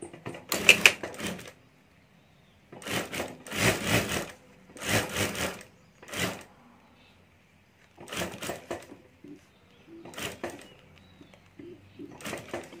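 A sewing machine stitches a zip onto a ladies' wallet in several short, clattering runs. Brief pauses separate the bursts, and it sounds close and fairly quiet, with no talk over it.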